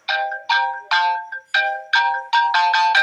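A phone ringtone rings in repeated short bursts of bright, layered tones, loud and close, with no voices over it.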